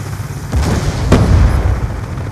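A frag grenade goes off in the video game Black Ops 2: a single short, loud boom bursts about midway through, set against a rumbling din of ongoing battle, with no voices.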